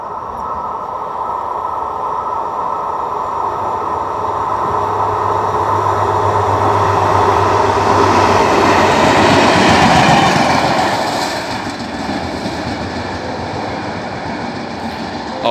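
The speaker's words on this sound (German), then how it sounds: "Sieht nach einer Lokomotive aus, einer einzelnen, ohne Waggons. Ja, es ist eine grüne Lok." A single green locomotive running light without wagons passes near a station in Unna or Kamen, a steady rail rumble and wheel noise swelling to a peak as it goes by, then fading.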